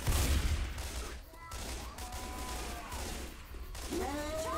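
Gunfire in the video game Left 4 Dead 2, a burst of shots at the start followed by continuous noisy game action, with faint voice-like tones mixed in.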